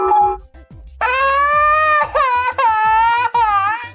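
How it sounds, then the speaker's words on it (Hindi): A baby cries in a loud, wailing burst with a couple of sobbing catches and breaks, following a brief moment of quieter voice at the start. "ये आवाज तो छोटे बच्चे की रोने की है।"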